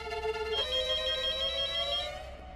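A landline telephone rings loudly and close by, an electronic ring whose tone shifts partway through before trailing off, heard alone with no talk.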